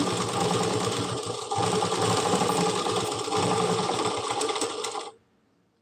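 Sewing machine running steadily while stitching pyjama fabric for a Punjabi dress, a loud continuous mechanical whirr with a rapid needle rhythm lasting about five seconds before stopping abruptly into near silence.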